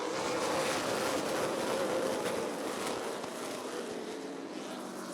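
Stock race cars roar around Rockford Speedway at the start of a race, a dense, loud and steady wash of engine noise from the pack running side by side with no break.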